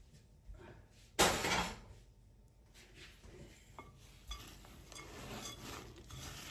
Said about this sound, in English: we're going to just dump in our 2 cups of toasted pecans just right in there